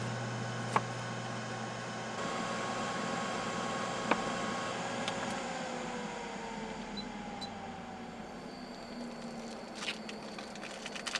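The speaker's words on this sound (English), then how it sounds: "Air fry these at 360, about 7 minutes" An air fryer inside a camper van cooks moussaka with a steady whirring hum and fan noise, fairly quiet and even throughout, broken by a few faint clicks and taps.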